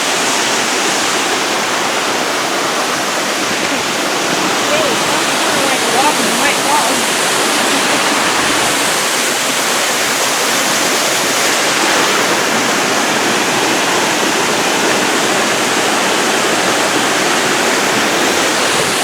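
Crabtree Falls roars steadily at close range, a broad, unbroken rush of falling water that fills the whole stretch at high volume without pause.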